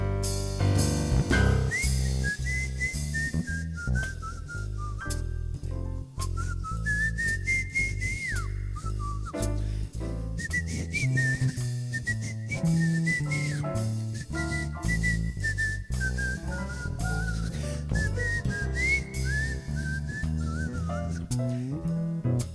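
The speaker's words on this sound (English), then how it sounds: "Let me whistle a little bit." Someone whistles a melodic tune at length, the pitch sliding and warbling steadily over a soft background hum.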